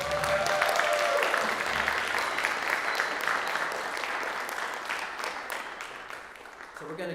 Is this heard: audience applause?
yes